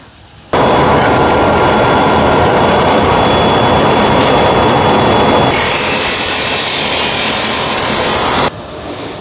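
A drum sander grinds steadily over small wooden rings for a hollow form, a loud, close, continuous roar that rises to a harsher, brighter pitch partway through before cutting off near the end.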